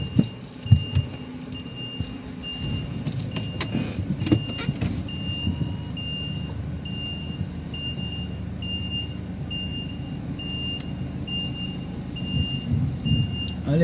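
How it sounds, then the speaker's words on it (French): A big truck manoeuvres in reverse, its backup alarm repeating a steady, regular beep over a low rumbling engine and passing traffic noise, heard without talk. "Un gros camion comme ça là, mon frère. Il manœuvre comme ça là, en marche arrière"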